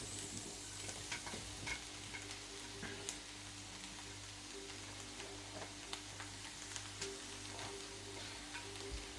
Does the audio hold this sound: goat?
no